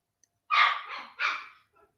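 A dog barks twice in quick succession, sharp and fairly close, with a short pause between and silence around.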